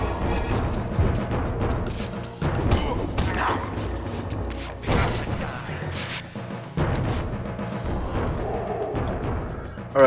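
Cannon fire in the video game Soul Reaver 2 booms repeatedly through dense game music and effects, several heavy blasts spaced across a busy, loud mix.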